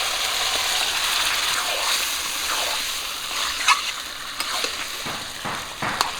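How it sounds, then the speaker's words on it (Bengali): Marinated chicken added to a pan with onion paste and spices sizzles in a steady frying hiss, with a few light stirring clinks and scrapes near the end. "এখন ম্যারিনেট করে রাখা চিকেনটা দিয়ে দেবো"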